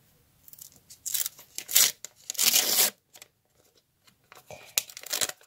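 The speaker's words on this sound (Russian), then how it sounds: "И давайте откроем наш пакетик." A small paper surprise packet is torn open with several short, crisp ripping and crinkling bursts separated by brief pauses, close and fairly quiet.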